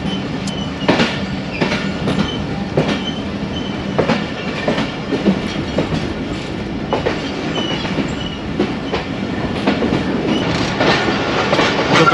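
39UP Jaffar Express on the Lahore to Rawalpindi single line rolls along steadily, wheels clattering in a regular clickety-clack over the rail joints, with a continuous loud rumble and occasional metallic knocks, no talking.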